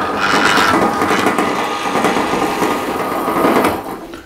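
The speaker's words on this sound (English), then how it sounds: "So now I'm going to drill some holes in it so I can spot weld it." A drill bores holes through a metal bracket template in a workshop, a steady loud grinding whir with rattling and mechanical clatter, running continuously before tapering off at the end.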